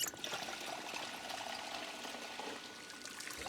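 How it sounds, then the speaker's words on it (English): Water pouring into a bottle at a sink in Project Zomboid, a soft steady trickling stream heard faintly and continuously throughout. "go to the sink and right-click. You can fill up that bottle and drink water."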